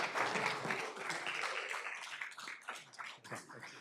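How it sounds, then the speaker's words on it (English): A crowd at a school board meeting claps steadily for a few seconds, a dense patter of many hands that gradually thins and becomes more scattered toward the end. "Now we clap."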